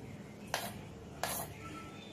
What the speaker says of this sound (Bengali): এবার এই পেস্টটাকে আমরা এই পাত্রের মধ্যে নিয়ে নেব।